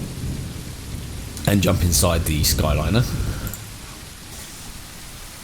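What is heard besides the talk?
rain effect in video game Tourist Bus Simulator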